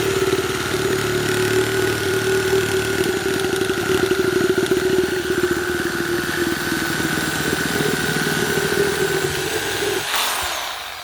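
A Milwaukee reciprocating saw, either an M18 Fuel cordless or a corded model, cuts steadily in one timed cut. The loud motor whine holds constant for about ten seconds, then winds down at the end.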